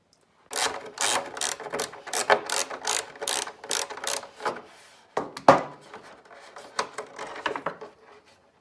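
Screws being backed out of the belly pan of an Ohvale motorcycle produce a loud, close series of rapid ratcheting clicks in repeated bursts, with a sharper knock partway through and brief pauses between runs.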